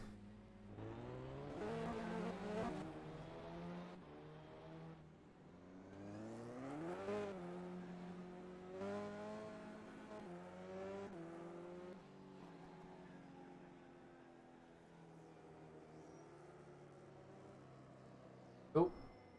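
Touring cars race around a circuit in the BTCC-style racing game: engines rise and fall in pitch through gear changes and passes, mid-distance and fairly loud, with a person talking over them.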